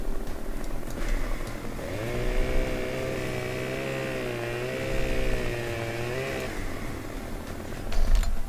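A chainsaw sawing wood in Farming Simulator 2017, the engine idling, then rising into a sustained high cutting whine with pitch wavering as it bites, dropping back near the end.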